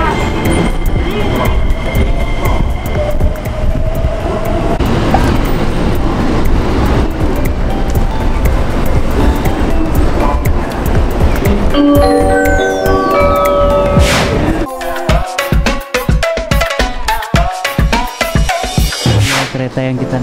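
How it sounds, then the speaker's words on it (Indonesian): A train rolls toward Kyoto with a loud continuous rumble of wheels on rails, rising squeals and rattles, then a rhythmic clatter later on, with people talking over it. "Naik kereta lagi."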